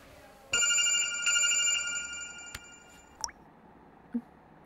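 A telephone rings with a bright electronic tone that sounds for a couple of seconds and then stops, followed by a few small clicks and taps in an indoor film scene.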